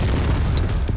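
A single loud, low grenade boom in the video game CrossFire rumbles briefly, dense and heavy, like a close blast.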